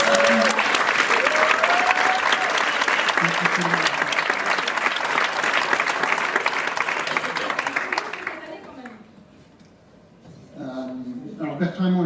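Audience applauding their president Claire at a business closing evening in Occitanie, a long dense round of clapping with a voice over it that fades out near the end, followed by quieter talk.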